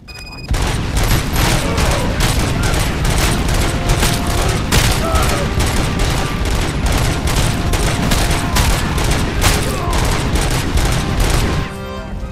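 Rapid-fire gun in the RoboCop: Rogue City video game with infinite ammo and no reload, giving loud, dense, continuous gunfire for about eleven seconds that stops abruptly, with no talk.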